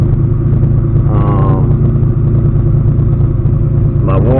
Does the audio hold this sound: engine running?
yes